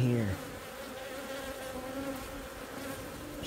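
Honey bees buzz densely around an open hive, a close, steady droning swarm that begins with a brief louder hum.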